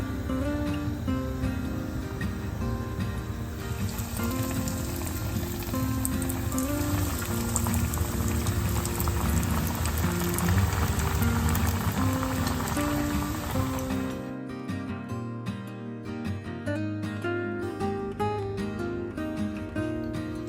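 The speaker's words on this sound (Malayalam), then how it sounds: "ഇനി തിളച്ച എണ്ണയിലോട്ടിട്ട് ഫ്രൈ ചെയ്തെടുക്കാം" Breadcrumb-coated cutlets deep-fry in boiling oil, giving a dense, continuous bubbling crackle that keeps going with no voices, then thins into a sparser spatter with scattered pops near the end.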